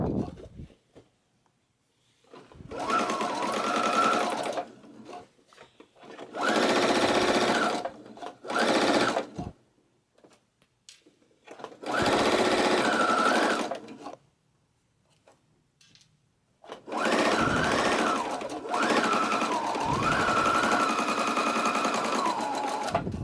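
A sewing machine stitches heavy upholstery-weight fabric with a size 100 universal needle, running in several steady bursts of a few seconds each, separated by short pauses, close and clear with no talking.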